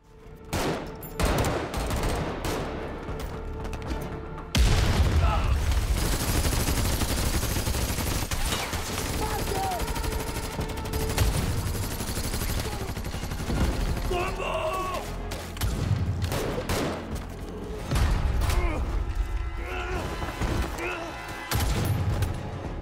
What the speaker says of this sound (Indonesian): terus melancarkan tembakan tanpa henti ke arah rumah itu